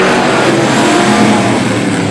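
Vintage race cars roar around the Star Speedway oval, a loud continuous blend of engines accelerating hard with no breaks in the sound.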